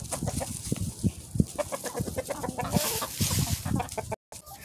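Several chickens cluck and murmur nearby in a busy, overlapping chorus, with rustling and no talking.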